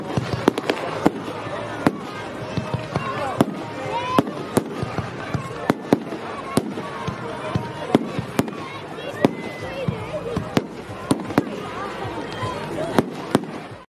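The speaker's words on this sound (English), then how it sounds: "We need fireworks right now. Give us some fireworks." Crackling fireworks sound effect with rapid bursts and pops played continuously during a live stock-trading stream, with a voice talking over it.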